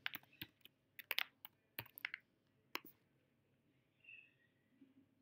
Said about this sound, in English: Here I'm putting my username and here I'm putting my password.